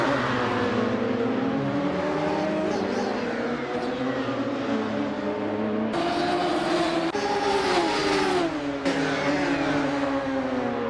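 Radical SR3 race car engines at Road Atlanta in Assetto Corsa roar continuously, loud and close, with rising and falling revs as the cars run wheel to wheel down the straight, and gear changes cut in partway through.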